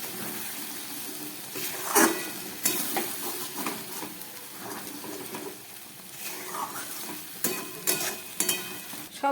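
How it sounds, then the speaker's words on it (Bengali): Egg curry with milk simmers and bubbles in a pan, a soft continuous sizzle broken by occasional scrapes and clinks of stirring. "সব ফুটে উঠেছে।"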